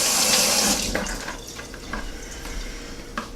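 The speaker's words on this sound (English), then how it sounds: "Wash my hands here." Tap water gushes into a sink for hand washing, loud at first then easing to a softer trickle with scattered splashes and drips.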